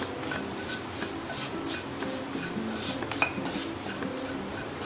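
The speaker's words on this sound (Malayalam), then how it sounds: "വറ്റി വെച്ച ചിക്കൻ ഇതിലേക്ക് ഇട്ട് കൊടുത്തിട്ട് നമുക്കൊന്നും കൂടെ വഴറ്റി കൊടുക്കാം" Chicken with spiced masala, onion and green chilli being sautéed in a pan, a steady scraping and stirring of the spoon against metal under a constant low sizzle, close and continuous with no voices.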